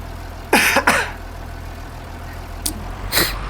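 A man coughs twice hard and close, then again a few times more lightly, over the low steady rumble of an idling tractor engine.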